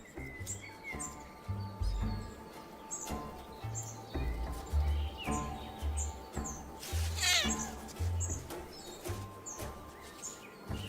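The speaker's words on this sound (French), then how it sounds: "Le chat forestier apprécie les zones boisées et préservées de ces montagnes." A European wildcat meows and caterwauls in drawn-out calls in wooded mountains, with birds chirping in the background and low rumbling noise below.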